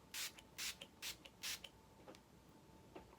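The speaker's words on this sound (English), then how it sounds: "I'm just gonna spray my face with this Wet n Wild Cucumber primer water" Four quick hissing spritzes from a Wet n Wild Cucumber primer water mist bottle in steady succession, close and clear, followed by a few softer faint spray bursts.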